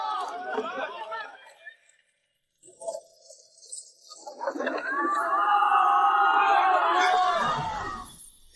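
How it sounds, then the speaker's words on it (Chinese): A crowd of townspeople in Huayin county murmurs and cheers in the distance, swelling into a sustained, lively chatter after a brief spoken exchange and a short silence. "百姓的欢呼？"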